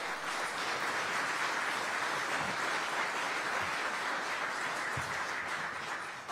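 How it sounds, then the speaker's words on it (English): Audience applause fills a civic address on innovation and the future of the city of Aurora, a steady, even wash of clapping held for about six seconds with no voices over it. "That deserves a round of applause."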